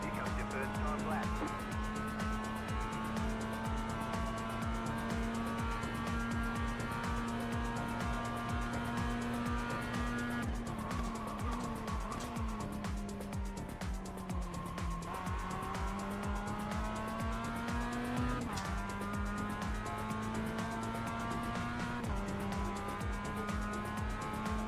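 A simulated race car in iRacing drones continuously at high revs, its engine pitch climbing and dropping sharply through several gear shifts over about twenty-five seconds, with someone talking over the engine noise throughout.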